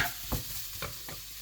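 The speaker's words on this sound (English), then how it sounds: "Something about frying onions" Onions sizzle softly in a hot pan for a bean curry, with a few brief stirring scrapes over the steady frying hiss.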